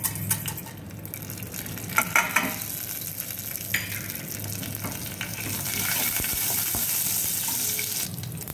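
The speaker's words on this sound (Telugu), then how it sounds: "పోపు గింజలు వేస్తున్నాను" Tempering seeds crackle and sizzle in hot oil for a Telugu majjiga pindi (challa pindi) dish, a steady close frying hiss with scattered pops and some stirring clatter, without any speech.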